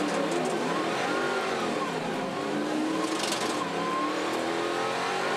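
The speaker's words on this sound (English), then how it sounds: "You can hear it flare into wheel spin as they cross the painted grid boxes on the start-finish straight there." Muscle race cars at Pukekohe Park Raceway launch off the start line and break into wheel spin, a dense continuous engine roar with rising revs, heard steadily from a distance with no voices.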